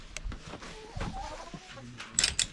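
Hens in a snowy coop cluck softly and intermittently, close by, among rustling and shuffling, with a couple of sharper squawks near the end.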